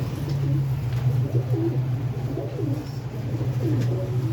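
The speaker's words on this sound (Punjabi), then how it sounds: "ਇਹ ਸਾਰੇ ਉੱਡਣ ਵਾਲੇ ਕਬੂਤਰ" Several pigeons sold as flying birds coo steadily and repeatedly close by, low rolling calls overlapping one another throughout against a constant low hum.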